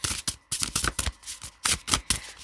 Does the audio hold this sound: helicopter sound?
no